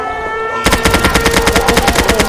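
Gunfire in the Roblox game Mad City starts abruptly after a brief quiet hum, then rapid evenly spaced automatic shots repeat loudly and close.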